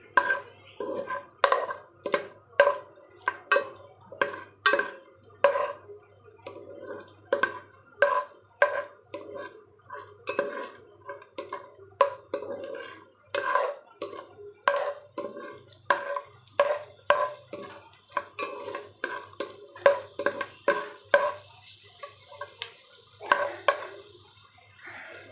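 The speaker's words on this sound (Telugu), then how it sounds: "బాగా రెడ్ కలర్ వచ్చేంత వరకు రోస్ట్ చేసుకోవాలి." Semolina roasting in a pan is stirred steadily with a utensil, producing repeated scraping clinks against the metal at a brisk, uneven rhythm, close up and without talk.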